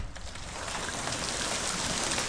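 Hail falling outdoors, a dense steady pattering hiss of many small impacts, faint and continuous with no talk.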